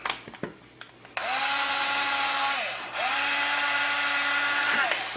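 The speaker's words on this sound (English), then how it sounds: "And we'll drill that through." Power drill boring through wood: a few faint clicks, then two long steady whirs at full speed split by a short dip, close and loud with no talking.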